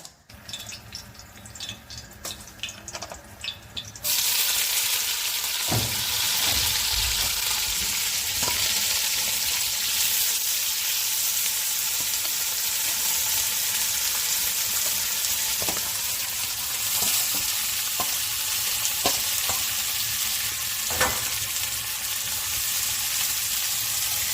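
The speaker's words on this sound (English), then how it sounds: "We're gonna do a shallow fry." Kapenta (matemba) fish shallow-fry in vegetable oil in a stovetop pan. After a few quieter seconds a loud, continuous sizzle takes over, broken by occasional light clicks and stirring taps.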